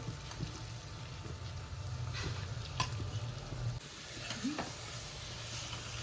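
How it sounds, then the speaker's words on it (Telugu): Chili powder stirred into a spiny gourd (boda kakarakaya) curry in a pan: soft, steady scraping over a continuous low sizzle, close and fairly quiet, with no talking. "బాగా కలుపుకోవాలి"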